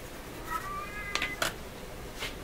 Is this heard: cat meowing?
yes